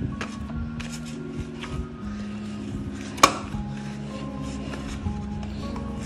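Eggless brown bread dough made without milk, kneaded and stretched by hand, giving soft, uneven rubbing, slapping and sticky pulling sounds close by, with one sharp knock midway.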